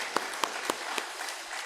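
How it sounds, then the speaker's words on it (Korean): A church congregation gives a brief round of applause to bless its teachers; the clapping is soft and somewhat distant, with a few distinct claps standing out over a diffuse wash. "우리 박수로 한번 축복하고 감사합니다."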